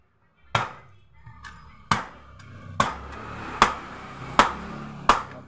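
Six sharp, jerking impact knocks land about a second apart as the rear pulley nut on an automatic scooter is tightened, each hit close and crisp with a short ring, heard alone in a quiet space.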